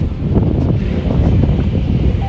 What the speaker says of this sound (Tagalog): hangin nga siya, pero